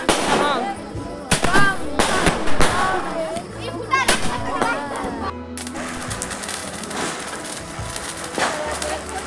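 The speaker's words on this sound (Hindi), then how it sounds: "अभी मैं दीदी सभी मिलकर पटाखा जला रहे हैं।" Diwali firecrackers going off outdoors in a string of sharp cracks and pops of varying loudness, with a lingering crackle as voices chatter nearby.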